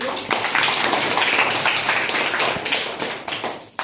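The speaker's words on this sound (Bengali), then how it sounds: "একদম সঠিক উত্তর, হাততালি হয়ে যাবে" An audience at a commemorative event breaks into dense, loud applause, many hands clapping together in a brief burst that fades at the end.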